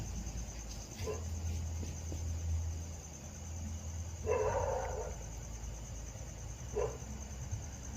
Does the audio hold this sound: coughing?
no